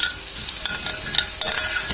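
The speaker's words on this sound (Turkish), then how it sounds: "Onları aldım tenceremde kavuruyorum." Minced meat, onion and garlic sauté in a pot for a baby's vegetable and rice soup, with a steady close sizzle and a few scraping stirs, no voices.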